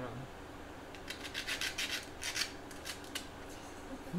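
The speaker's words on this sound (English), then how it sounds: "Now we just sand it. Sanding some aluminum." Quiet, rhythmic rasping strokes of sandpaper scrubbing against aluminum, a series of short back-and-forth rubs close by with no talking.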